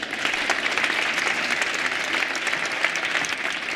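A conference audience applauds warmly at the close of a talk on financing the Paris climate agreement, a full, even patter of many hands clapping at once throughout.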